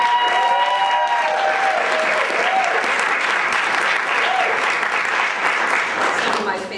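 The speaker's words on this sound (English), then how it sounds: "Give her a round of applause." An audience at a governor's commerce event gives a steady burst of applause, dense and sustained for several seconds with a few voices mixed in, tapering slightly at the end.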